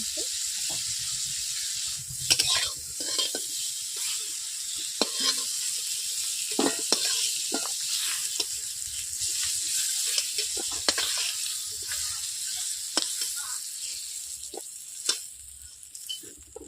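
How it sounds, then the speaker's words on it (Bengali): Prawns fry in a hot wok for a Bengali malai curry, giving a steady close sizzle broken by scraping stirs and occasional sharp clatters of the utensil. No voices. "মাছগুলোকে আমি এপিট ওপিট লালচে করে একটু ভেজে নিয়েছি"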